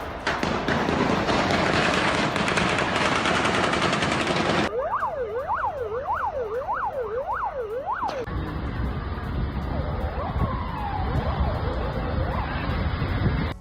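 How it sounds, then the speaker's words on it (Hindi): Loud sustained gunfire from a crossfire between the Russian army and militants during a terrorist attack in Dagestan, dense and continuous, overlapping a wailing siren midway and continuing as a noisy roar to the end. "रूसी सेना आतंकवादियों के बीच लगातार फायरिंग हो रही है।"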